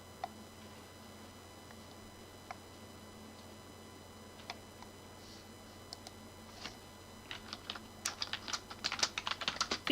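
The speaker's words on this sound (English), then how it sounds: "Okay, you're typing." Typing on a computer keyboard, scattered faint key clicks at first that build into a quicker, denser run of taps near the end, heard over a quiet background hum.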